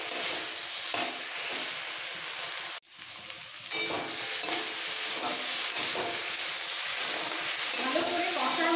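Mixed winter vegetables and spice paste sizzling loudly in a pan, continuous frying hiss with repeated stirring scrapes, broken by a brief near-silent dip before the sizzle resumes just as strongly.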